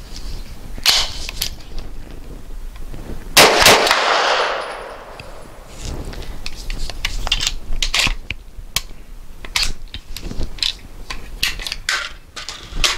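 Sig Sauer Elite Performance 124 grain 9mm rounds fire from a Grand Power Stribog SP9 A3, sharp loud outdoor shots coming singly and in quick pairs, with one bigger blast ringing out near the start.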